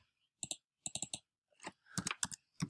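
Quick bursts of typing on a computer keyboard, three clusters of crisp key clicks separated by short pauses, close and fairly quiet with no voices.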